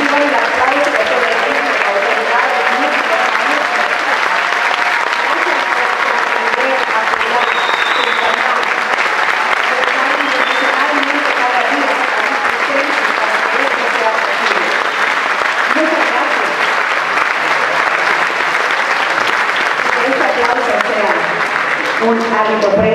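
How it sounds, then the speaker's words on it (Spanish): A concert audience applauds the students' parents at a youth symphonic gala, with sustained, dense clapping from a large crowd filling the hall throughout. "háganos el favor de ponerse de pie para que reciban el aplauso de todos"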